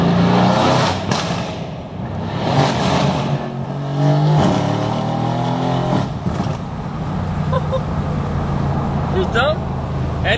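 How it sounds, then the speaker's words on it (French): A Mercedes C63 AMG twin-turbo V8 revs and roars while driving, a loud sustained engine drone that rises and falls, with someone talking over it. "Et le boucan, il est vraiment incroyable de ce V8 turbo quand même."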